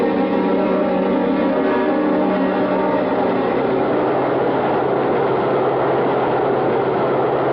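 Subway train rumbling in a radio drama scene, a steady dense roar with a constant low hum throughout, loud and unbroken, no voices over it.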